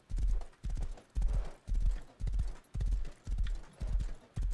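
Horse hooves clip-clop in the Rust video game, a steady trotting rhythm of clustered heavy hoof strikes repeating about once every half second, close and moderately loud.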